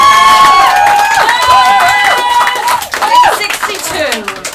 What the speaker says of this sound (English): Big round of applause, Sarah